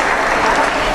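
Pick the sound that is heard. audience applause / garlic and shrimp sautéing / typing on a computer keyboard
audience applause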